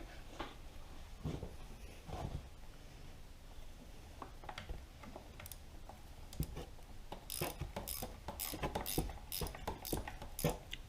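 A ratchet wrench loosens carburetor bolts on a 2007-2013 Arctic Cat DVX 90 ATV, with faint mechanical handling at first, then bursts of quick, quiet clicking in the second half.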